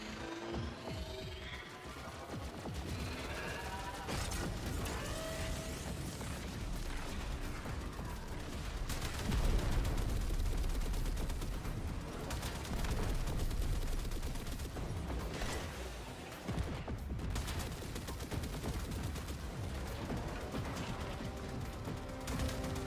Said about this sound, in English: Need my gunner to stop shooting.